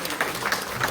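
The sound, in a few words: applause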